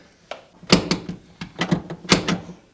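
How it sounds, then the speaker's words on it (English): A door in a multi-family rental unit is worked open, giving several sharp clicks and knocks of the latch and handle followed by a short burst of clattering, close by and fairly loud. "Make sure it's gonna open the door."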